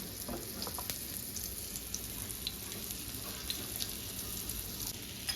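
Steady, even sizzling of battered vegetable pieces shallow-frying in a pan over low heat, continuous and moderately quiet with small crackles throughout and no talking.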